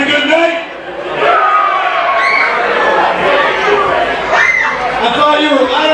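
Wrestling show audience at a live event, crowd chatter and cheering from the back of the venue, a steady loud roar of many voices throughout with rising shouts.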